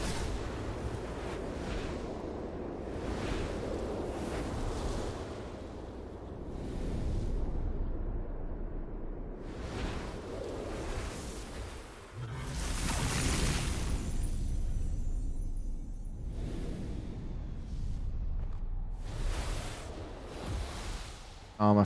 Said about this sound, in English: usually I don't like the waterfall sounds on here because it's too much noise